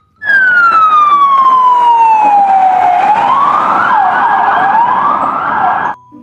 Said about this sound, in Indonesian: Wow, lihat, ada mobil polisi.